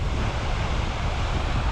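Wind gusting at a waterfall with mist blowing up, a loud, continuous broadband roar of rushing water and buffeting air close to the microphone, with no voices.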